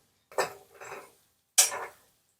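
Chicken pickle being stirred in a pan, giving two brief scraping clatters of utensil against metal, then a short pause and a third sharper scrape, close and fairly quiet with no talking.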